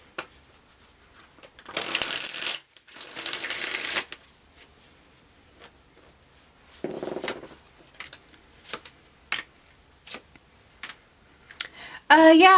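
Tarot cards being shuffled in bursts of riffling and bridging, with a few loud flutters followed by scattered quieter card taps and snaps, close up with no talk.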